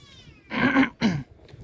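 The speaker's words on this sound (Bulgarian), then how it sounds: "Колко жално мялка това котенце." A young kitten, one of a litter on a house wall, gives two plaintive meows in quick succession, close and clear with a faint trailing sound after.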